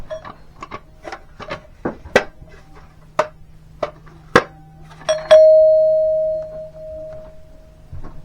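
An electric doorbell rings a ding-dong chime, preceded by a run of sharp clicks and taps, then holds one long ringing tone that slowly fades; loud and close, with no talking.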